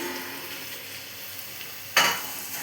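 Marinated chicken drops into a pan of browned onions for chicken pulao, bursting into a sudden loud sizzle after a quiet stretch of soft frying, then settling into steady crackling.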